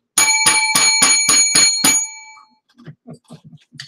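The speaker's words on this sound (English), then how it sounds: "Did they have a bell like that in the Hilton Hotel" A bell rings seven times in quick, even succession, bright metallic dings close and loud, followed by faint voices talking.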